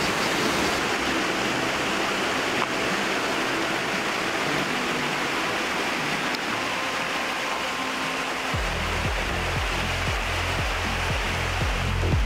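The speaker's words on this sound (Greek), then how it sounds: "Κι άλλο γεφυράκι, νερό, τρεχούμενο" Stream running under a small stone bridge beside the Roman aqueduct of Nicopolis near Preveza, Greece, a loud continuous rushing of water, joined near the end by a low rhythmic rumble; no one speaks.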